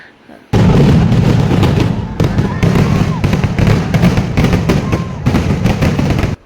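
Fireworks at a church festival in Chalakudy, a loud sudden barrage of rapid booming and crackling bursts that continues almost without pause for several seconds before cutting off, with crowd voices underneath.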